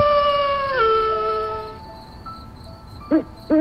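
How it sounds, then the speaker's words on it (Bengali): A pack of jackals howls at night in an animated horror story, long wavering cries that slide downward and fade, then two short sharp yelps close together near the end, with faint crickets behind. "কোথাও দূরে একদল শিয়াল ডেকে উঠল।"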